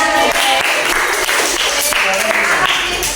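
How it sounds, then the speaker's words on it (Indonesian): Classmates applaud a fourth group in a classroom, a loud, busy patter of clapping over chatter and children's voices throughout. "Kita kasih apa buat kelompok 4? Tepuk tangan."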